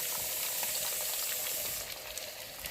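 Potatoes sizzle steadily in hot oil in a pan after being drained of water, a dense continuous frying hiss up close that lightens slightly near the end.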